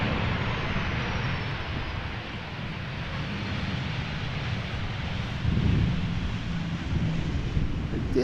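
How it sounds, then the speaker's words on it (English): A 13-year-old Boeing 737 landing at Amsterdam Schiphol with brief reverse thrust, a steady broad roar under heavy wind buffeting on the microphone, with a slight swell in low rumble midway through. "I did hear a little bit of reverse thrust use there."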